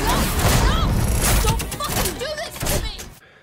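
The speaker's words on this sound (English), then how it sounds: "A flash explosion, harsh on the eyes, and a sound effect harsh on the ears to match." Flash explosion in an Alien: Isolation cutscene, a dense, harsh burst of booming crashes and crackling bangs lasting about three seconds, loud and close, with voices mixed into the chaos.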